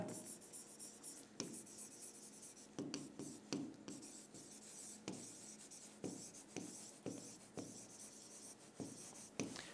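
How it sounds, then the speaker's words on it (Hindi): Marker writing on a board during a classroom lesson makes a quiet series of rhythmic squeaky strokes and taps, close and clear, with no speech. "I am writing on a board."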